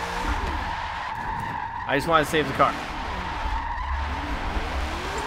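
A car drifts sideways in Forza 7, its tires squealing in a short burst of rapid, wavering screeches over a constant engine hum, while someone talks over it.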